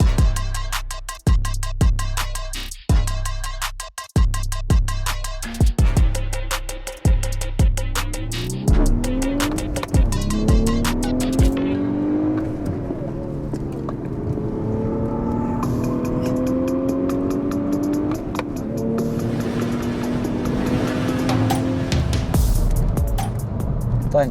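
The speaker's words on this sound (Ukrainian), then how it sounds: "догріваємо двигунчик і їдемо кататись" A sixth-generation VW Golf R turbo engine idles with rhythmic low thumps, then revs up and pulls away, its pitch rising and settling into a steady driving hum.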